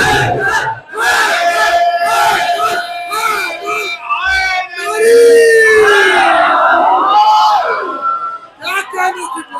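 A mourning congregation at a majlis in an imambargah in Quetta shouts a religious slogan in unison, loud rising and falling collective yells answered in waves, close and forceful.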